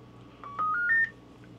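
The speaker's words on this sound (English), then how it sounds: "Let's turn off that key beep." Electronic key beeps from a Radioddity CB-500 or Anytone AT500M CB radio: a short run of three rising tones in quick succession, clean and close against a quiet background hum.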